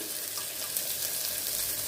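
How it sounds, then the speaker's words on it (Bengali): Cumin seeds and one dried red chilli temper in hot ghee for dal with fish head, a dense, even hiss of sizzling close by, steady and loud throughout with faint crackles. "একটু জিরে ফোড়ন, জিরে ফোড়ন, 1টা শুকনো লঙ্কা ফোড়ন"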